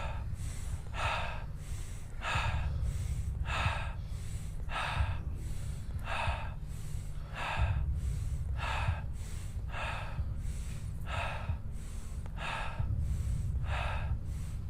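Rapid, rhythmic breathing exercise with sharp, airy inhales and exhales repeating about once per second, loud and close over a steady low background hum, no talking.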